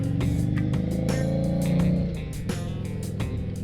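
A 2015 Harley Davidson Street 750 motorcycle engine runs loud and close while riding on the road, a steady rumbling drone with small pulsing shifts in pitch, no talking over it.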